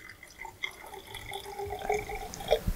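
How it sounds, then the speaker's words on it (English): Water being poured to fill a glass Erlenmeyer flask with about 150 milliliters for a lab experiment, a soft steady trickle and splash with faint ringing tones, fairly quiet and alone. "we're going to take our Erlenmeyer flask and fill it with"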